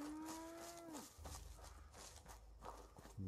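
A video game cow lets out a long low moo, followed by shuffling footsteps and faint rustling; another moo starts right at the end.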